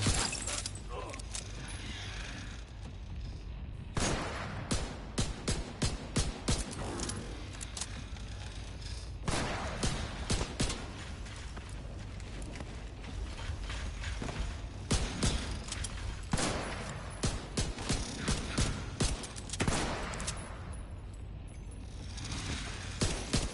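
Sharp pistol shots in The Division 2 video game, firing in quick irregular clusters of single cracks over a steady background of game noise, moderately close.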